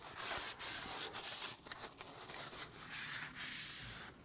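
Clean paper roll rubbed around a greasy Vauxhall Vivaro brake disc after a cleaner spray, a continuous soft scuffing and wiping close up, quiet and unbroken for a few seconds.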